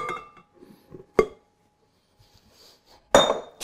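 Ingredients for French Christmas shortbread, starting with flour, going into a mixing bowl, heard as a few sharp clinks and knocks of utensils against the bowl, separated by quiet pauses, with no talk.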